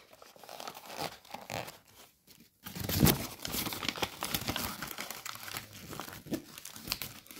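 Origami paper is folded and creased into a fighter jet model, with soft close crinkling and rustling, a brief pause, then a sharper crease crackle followed by continued gentle paper handling.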